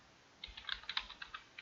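Computer keyboard typing while entering a file name in a modding tool, a light run of about a dozen quick, soft keystrokes, close and fairly faint, with no one talking.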